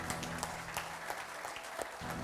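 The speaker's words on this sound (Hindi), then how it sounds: "मैं अभिलाषा जी के लिए भी आपसे तालियां मांगता हूं।" An audience applauds at a stage event with a media interview, a steady, faint wash of distant clapping with a low hum underneath and scattered sharper claps.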